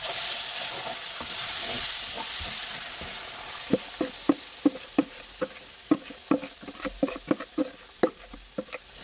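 Syrup poured into frying flour halva sizzles loudly in the pan, a steady hiss followed by a run of bubbling, popping spatters as it absorbs.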